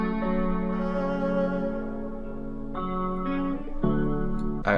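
Guitar chords for a vibey beat played through a Comeback Kid delay effect and panned: steady layered strummed tones with echoing repeats and a couple of chord changes, moderately loud and close, no voices.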